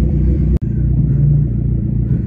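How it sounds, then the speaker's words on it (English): A Dodge Neon SRT4 idles with a loud, deep, steady engine rumble close by, cut by a brief click near the start, then keeps rumbling as the test drive begins. "Let's take it for a test drive."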